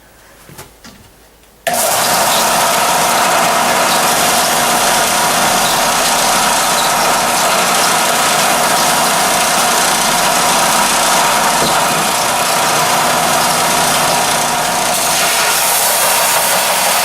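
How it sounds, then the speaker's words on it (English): A belt sander grinds bevels into a knife blank cut from a lawnmower blade, starting abruptly after a few quiet seconds and then holding a loud, steady, continuous whine and rasp to the end with no talk. "Now we're going to hit it with the belt sander and start really working on these"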